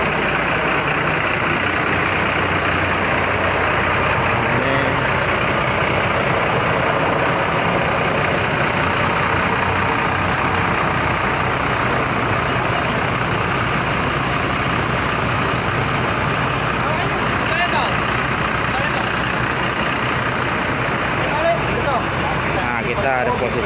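A Mercedes-Benz 1526 bus engine idles in a garage with a loud, steady, low rumble and a constant whine above it, and the sound holds even throughout.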